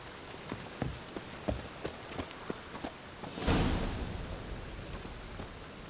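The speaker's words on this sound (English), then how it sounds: "Rain again." Rain in The Witcher 3 video game, a quiet continuous patter under a string of regular soft footsteps, then a sudden louder swell of rain or wind that fades back down.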